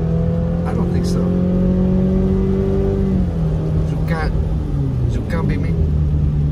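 A car engine revving and accelerating on a snowy mountain highway while racing a Mini Cooper; a loud, rising engine tone that shifts gears and climbs again, heard from inside the car.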